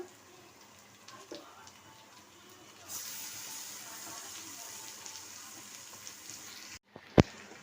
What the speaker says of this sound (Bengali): এবার ম্যারিনেট করা মাংসটা তুলে দিচ্ছি।